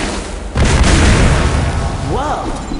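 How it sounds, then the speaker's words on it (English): Green explosion in the video game TMNT: Out of the Shadows, a loud sudden boom that rumbles on for a couple of seconds, with a brief warbling electronic tone near the end. "What the heck makes a green explosion?"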